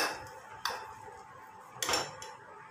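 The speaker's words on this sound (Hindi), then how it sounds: "इसको अच्छी तरह से मिक्स कर लेना है" A spoon clinks against a bowl while mayonnaise is mixed into bread batter, two crisp metallic taps over quiet scraping and stirring, close and fairly soft.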